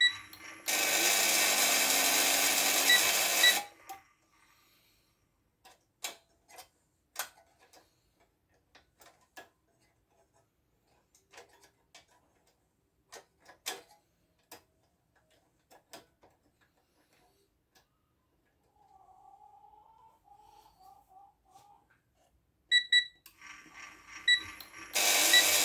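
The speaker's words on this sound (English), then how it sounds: "I'll start it up and I'm going to press eject and see if the solenoid valve is strong enough to open it." A Hottop coffee roaster with a faulty door spring runs loudly at first, then falls quiet, leaving scattered mechanical clicks and ticks, a faint whirring hum, and a final burst of machine noise as eject is pressed to test the solenoid.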